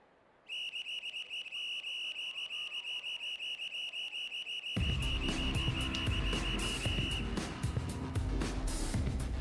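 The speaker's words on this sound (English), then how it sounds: "a whistle is blown" A referee's whistle in an ice hockey game sounds as one long, shrill, unbroken blast of about seven seconds. Midway through, loud arena crowd noise and clatter rise up under it and keep going after it stops.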